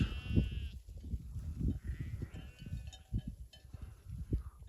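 Several sheep bleat in the near distance in the Nurhak Mountains over rumbling low background noise, with overlapping cries coming at irregular intervals.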